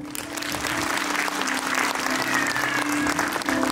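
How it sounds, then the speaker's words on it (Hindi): Applause at a school annual function: a dense, continuous clapping of many hands from an audience, fairly loud and steady throughout, with no talk over it. "तो तालियां हो जाए"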